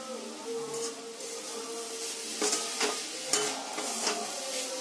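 Motichoor laddu mixture with chopped raisins is stirred in a pan over medium heat, a soft sizzle under scraping spoon strokes and a few clanks against the metal.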